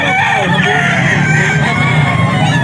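A rooster at a gamefowl pet market crows loudly and close by, a strained, sustained call over continuous clucking and other fowl noise, with no talk.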